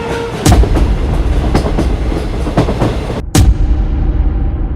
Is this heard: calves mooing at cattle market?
no